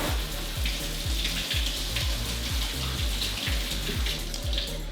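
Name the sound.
rinsing fruit under running tap water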